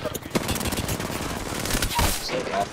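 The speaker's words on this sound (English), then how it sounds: "I'm shooting" Rapid video game gunfire rattles in dense bursts for the whole stretch, loud and close, with voices talking over parts of it.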